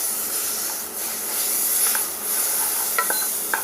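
Butter melts and sizzles in a pan as a bechamel base begins, a steady close hiss with a few small pops and crackles near the end, no voices.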